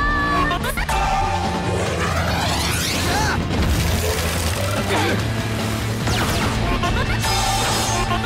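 Heavy booming cannon blasts in an animated cartoon erupt repeatedly over a dense, noisy background of rumbling and crashing, loud and close throughout.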